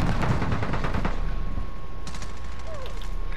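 Rapid gunfire bursts in a battle royale final-circle fight, a dense volley of shots in the first second followed by scattered distant pops and mechanical clicks.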